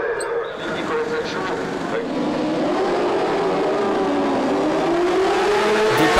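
Superbike motorcycles accelerate off the start of the first race of the weekend at Magny-Cours, a dense, continuous engine roar that builds steadily with rising pitch, heard under a commentator's voice.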